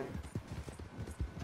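Quick, evenly spaced horse hoof clops in Red Dead Online trot along at a steady rhythm, moderately close, with a light synthetic quality and no talking.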